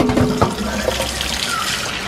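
Gator tail meat being rinsed under a running kitchen tap, with a steady stream of water splashing into a sink and brief knocks near the start and end.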